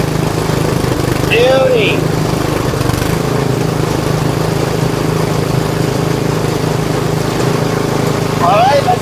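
A Tecumseh Snow King snowblower engine runs with its auger engaged, a loud, steady, droning rumble that persists throughout while someone speaks briefly over it.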